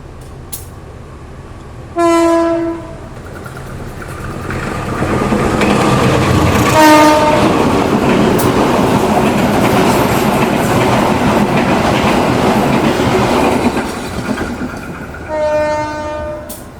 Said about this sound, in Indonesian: Dan ini tadi double traksi BP203.